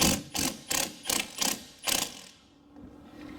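A ratchet loosens a bolt on a steering gear box during a steering linkage repair, giving five close, loud bursts of rapid clicking in a steady rhythm before the sound falls quiet.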